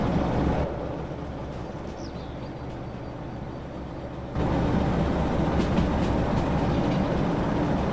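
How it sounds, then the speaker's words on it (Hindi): A train engine in the Derail Valley railway simulator game drones steadily with a low mechanical rumble, growing noticeably louder and rougher about halfway through, with no voices. "यार इंजन साउंड सुनो आप लोग, सिर्फ इंजन साउंड सुनो।"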